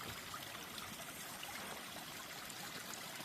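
Little waterfalls along a hiking trail give a continuous, even rush of flowing water, soft and steady throughout with no voices over it.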